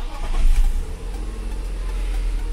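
A car engine cranks and catches after a brake fluid reservoir replacement, with a brief surge at the start. It then settles into a steady, close idle rumble.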